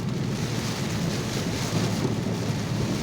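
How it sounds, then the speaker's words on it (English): Heavy thunderstorm rain roars steadily with low rumbling thunder underneath, loud and continuous with no talking, heard on a drive home from work. "Thunder."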